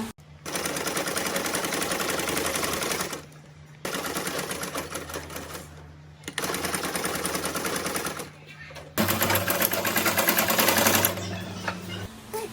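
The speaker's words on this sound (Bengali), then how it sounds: "এরপরে সাইডটা সেলাই করে নিয়ে নিলাম।" A sewing machine stitches cotton fabric in four fast, steady bursts of rapid mechanical chatter separated by short pauses, loud and close.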